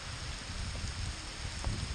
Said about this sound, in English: getting pummeled with hail